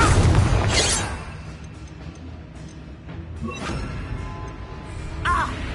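A Confringo spell in Hogwarts Legacy bursts with a loud booming blast at the start, followed by quieter crackling impacts and a second smaller burst near the end, over game ambience.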